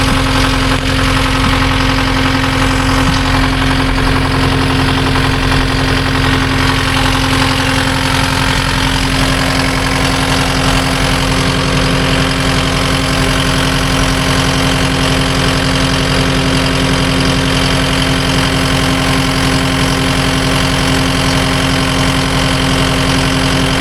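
A Kubota 75-3 mini excavator's engine idles steadily after an oil leak repair, a loud, continuous diesel drone with a constant low hum that smooths out slightly partway through, with no talking.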